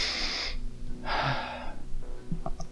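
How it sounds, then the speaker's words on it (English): A deep breath is drawn in and then let out in two soft, breathy rushes of air, close and unhurried, during a group breathing exercise, followed by faint light sounds. "She asks us all to take a deep breath. And we let it out."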